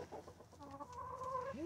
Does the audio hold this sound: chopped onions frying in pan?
no